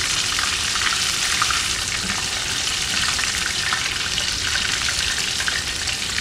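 Small pieces of fish frying in hot oil give a steady, dense sizzle with fine crackling that holds at even loudness throughout, close and alone with no talk.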